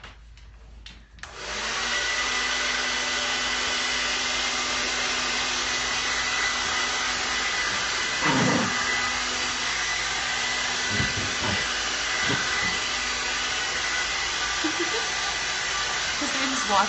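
A hair dryer switches on and runs with a steady, loud hiss while drying a wet dog after a bath, with brief voices and small rustles over the continuous blow.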